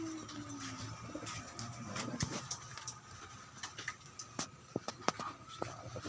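Pigeons cooing softly amid outdoor ambience, with low throaty coos early on and scattered flutters, clicks and knocks, moderately close and fairly quiet.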